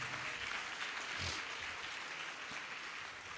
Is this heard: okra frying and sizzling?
no